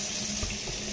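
Tap water runs steadily into a kitchen sink during dishwashing, a continuous close hiss and splash with no voices.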